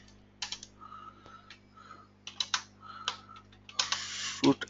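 A computer keyboard clicks out a MySQL command in short bursts of typing separated by pauses. A denser flurry of keystrokes comes near the end, and a faint hum runs underneath.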